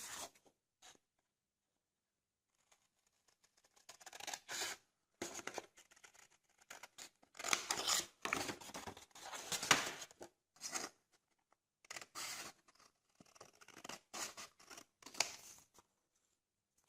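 Scissors snip through paper in a craft project, with bursts of crisp cutting and rustling separated by short pauses, close and fairly quiet.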